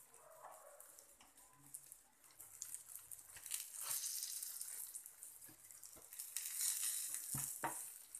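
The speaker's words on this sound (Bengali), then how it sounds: "এখন আমি এর উল্টো সাইডটা ভেজে নেব।" Round brinjal slices fry in oil in a pan over medium heat, a soft crackling sizzle that swells and fades as the pieces are turned, fairly quiet and close.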